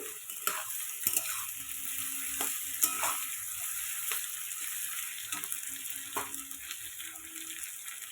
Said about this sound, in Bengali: আদা কুচিটা দিয়ে দিচ্ছি আদা কিছুটা একটু ভেজে নেব এটার সাথে